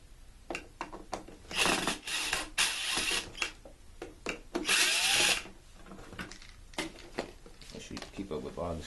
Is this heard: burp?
no